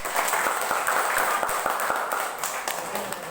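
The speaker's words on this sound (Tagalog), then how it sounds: "Usa ka masigabong palakpak alang sa atong Ginoo" A chapel congregation claps together during a Bible exposition, giving a steady burst of applause with sharp individual claps throughout.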